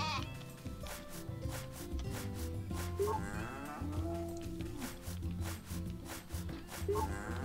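Cow lowing from the farming video game Story of Seasons: A Wonderful Life, several drawn-out moos in succession over a steady bed of game background music, loud and close.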